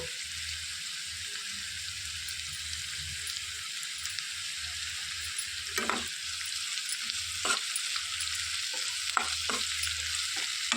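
Chana dal and curry leaves frying in hot tempering oil for a ridge gourd curry, a steady close sizzle with scattered crackles and occasional spoon scrapes stirring the pan throughout.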